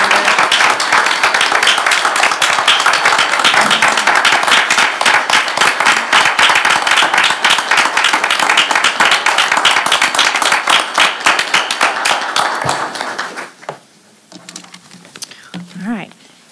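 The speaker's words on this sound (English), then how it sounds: "can we give everyone one more round of applause?" Audience applause at a staff awards ceremony, dense sustained clapping from a room of people lasting about thirteen seconds before thinning out to scattered claps and faint voices.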